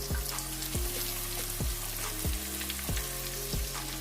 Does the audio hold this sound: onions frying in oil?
yes